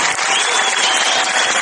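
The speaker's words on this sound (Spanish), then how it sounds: "Vamos a darle un gran aplauso." Dense, loud audience applause fills a Spanish-language education event, steady and close for under two seconds with no one speaking.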